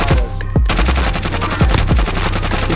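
Rapid automatic gunfire in a shooter video game, loud and sustained, with bursts of shots and sharp individual cracks over a dense, busy game soundscape.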